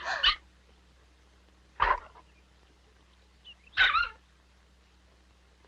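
A dog from a 1980 French television series barks three times, spaced about two seconds apart, each bark loud, sharp and close, with quiet between them.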